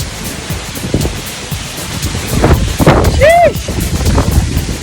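A strong wind buffets the microphone outdoors with continuous loud rumbling gusts that swell toward the middle, and a brief rising and falling tonal squeal rises above them.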